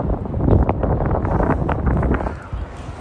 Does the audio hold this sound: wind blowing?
yes